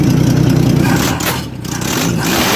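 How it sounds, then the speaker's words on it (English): An old car's engine revs loudly up close with irregular popping and clattering, the rumble dipping briefly in the middle before building again. "there you got your popping noise."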